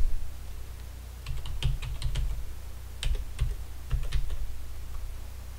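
Quiet clicking of a computer keyboard as a username and password are typed in, irregular clusters of keystrokes over a steady low hum, with no talking.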